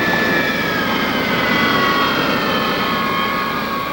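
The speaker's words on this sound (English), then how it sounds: "aircraft parking right now" Loud, continuous roar and high whine of a B-52 Stratofortress bomber's jet engines as the aircraft taxis into parking, sustained and close with no speech.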